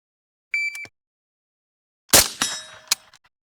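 Bullets striking a steel circle gong stop plate at a shooting range, a faint distant ring at first, then a sharp gunshot followed by ringing metallic clangs that decay quickly.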